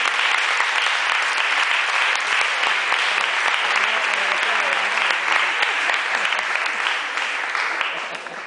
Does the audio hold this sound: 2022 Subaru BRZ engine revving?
no